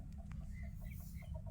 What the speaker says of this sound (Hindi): कितने प्यारा मुर्गा था वो।